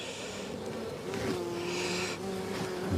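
Honeybees buzz at an opened beehive during hive inspection, a close, continuous droning hum with shifting pitch as individual bees fly near.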